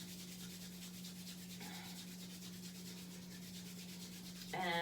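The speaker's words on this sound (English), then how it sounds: "Rub your hands together briskly" Hands rub together briskly in a steady back-and-forth rhythm, a soft, faint, continuous swishing over a low hum that grows louder near the end.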